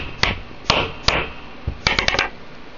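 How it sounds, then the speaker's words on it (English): Screwdriver tapping a part into place near an idler gear, several sharp metallic knocks, a few spaced single taps and then a quick cluster of four, close and clear with no talking. "Take the screwdriver. Tapping that on there."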